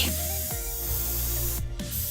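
A continuous, even airbrush hiss spraying black paint onto black paper close by, with a brief break near the end, and no voices.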